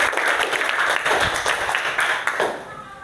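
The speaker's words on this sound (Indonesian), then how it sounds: "Bagus, tepuk tangan, nanti buktikan." A primary school class breaking into applause, a dense burst of many hands clapping at close range that fades toward the end.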